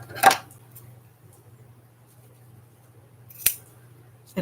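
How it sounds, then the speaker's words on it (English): Scissors snip through ribbon for a fabric journal page, two crisp separate cuts a few seconds apart with a third starting at the end, close and clear over a faint steady hum. "I'm going to trim this ribbon off."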